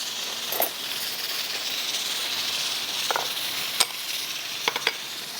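Chicken, wheat and lentils frying in a pot give a steady, soft sizzling hiss, broken by a few sharp clicks and stirring scrapes, with no talking.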